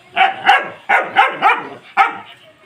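A small pet dog whines and yelps while being picked up, giving about six sharp, close, high-pitched cries in quick uneven bursts.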